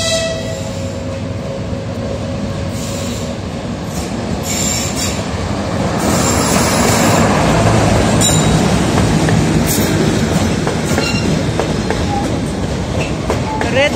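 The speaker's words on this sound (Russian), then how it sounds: "как раз поезд подъезжает на эту станцию с включенными фарами." A children's railway train rolls into a station in a Kyiv park with its headlights on, wheels clattering and squealing on the rails as it draws steadily nearer and louder, a horn briefly sounding over the continuous rumble.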